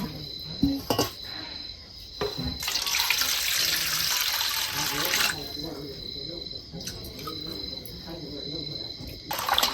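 Running water splashes and swishes as roots are rinsed in a basin, with intermittent clatter and a faint insect-like chirp in the background.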